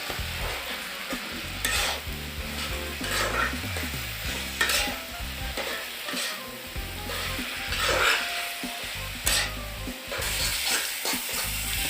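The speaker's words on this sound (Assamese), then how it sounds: "কচুখিনি ভালকৈ ভাজি ল'ব লাগে" Taro leaves fry in a pan for a taro-and-broiler-chicken curry, a continuous close sizzle punctuated by repeated spatula stirring and scraping strokes.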